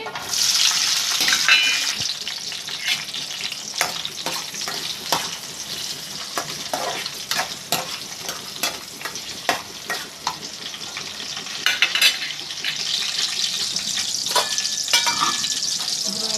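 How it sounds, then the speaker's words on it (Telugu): Twelve green chillies fry in hot oil, giving a loud, dense, continuous sizzle. Frequent sharp crackles and pops are joined by stirring scrapes against the pan. "12 పచ్చిమిరపకాయలు నూనెలో వేసుకొని వేపుకోవాలండి."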